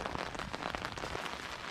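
Steady rain patters on a garden and its butterfly weed plants, a dense, even hiss of drops with occasional louder splats close by, no voices.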